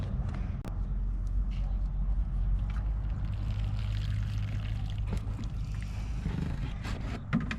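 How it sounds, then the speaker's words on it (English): Water pours onto potted plants with a low, continuous gurgling splash close by. A few small knocks and clatters sound over it. "So I will give these guys water, but I'm going to be very careful not to get any water splashed up onto these leaves."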